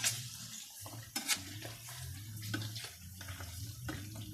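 Pork rinds sizzle and crackle in pork fat rendered from the meat, a steady close frying hiss with a few louder pops and stirring clatters, no talking.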